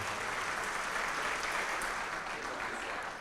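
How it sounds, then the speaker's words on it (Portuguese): A church congregation gives a round of applause, a continuous wash of many hands clapping at moderate volume with no break for the full few seconds. "vamos dar uma salva de palmas para Jesus"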